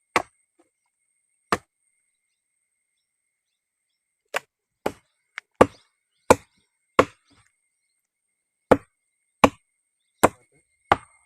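Sharp chopping strikes into wood in a forest on a wild honey gathering trip, a dozen close, loud, separate blows spread irregularly with quiet gaps, some coming in quick pairs, and no talk.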